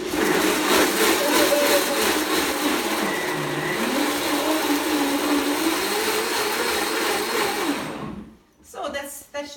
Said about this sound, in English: So now I blend it, now it's a little noisy.